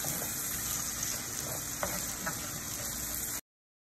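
Diced tomato fries in a pan for a salt-fish pie, giving a steady moderate sizzle with a couple of faint stirring taps before it cuts off abruptly.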